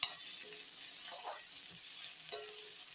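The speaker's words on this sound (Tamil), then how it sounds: "நல்லா ஆனியன் வந்து நல்லா பொன்னிறமாக வதங்கட்டும்" Onions for capsicum fried rice sauté in a pan, a faint, soft hiss with a couple of brief stirring scrapes and a light clack, quiet and without speech.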